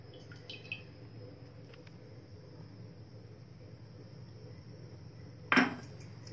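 A kadai is set down on a gas stove to heat oil for sabudana vada: one sharp metallic clunk near the end, over a low steady background hum, with no speech.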